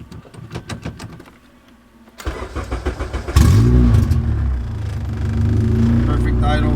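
A car engine is cranked with a ticking starter, catches with a loud surge, then drops into a steady rumbling idle close by, with someone talking over parts of it.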